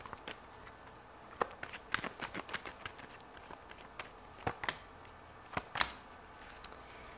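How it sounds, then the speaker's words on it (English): A tarot deck is shuffled for a love reading, giving soft, close riffles and scattered taps of cards at an uneven rhythm, faint and without talk. "let's pull some love cards for you"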